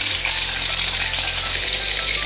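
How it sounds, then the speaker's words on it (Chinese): Ribbonfish pieces fry in hot oil in a wok, giving a loud, continuous bubbling sizzle close up with no talking. "油烧热转小火，再来把带鱼夹下去"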